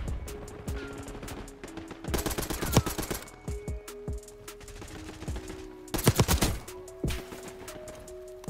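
Rapid bursts of gunfire in the Black Ops 6 video game, including sniper fire, crack out in loud clusters over a steady game background, with several dense volleys and scattered single shots.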